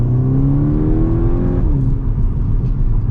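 A Volkswagen Golf 6 GTI Edition 35 engine (235 hp) revs up with rising pitch, then the tone shifts as it keeps pulling, loud and close with road rumble underneath.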